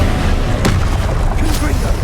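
Incendio fire spell cast in Hogwarts Legacy, a brief whooshing burst over a dense game soundscape of low rumble, with a sharp flare near the start and another later.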